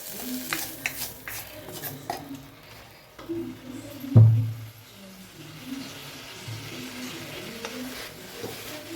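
Milagu thakkali greens are sautéed in a pan, with soft stirring, scraping and a faint sizzle throughout, plus one louder clunk of utensil against the pan midway.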